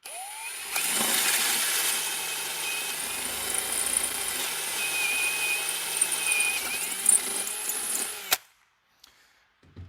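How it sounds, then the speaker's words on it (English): A 1/4 inch drill bit bores steadily into a metal transmission case while a spool assist valve is being installed, a continuous high-pitched whine lasting about eight seconds before it stops abruptly. "now we're going to chase the case here with the 1/4 inch drill bit"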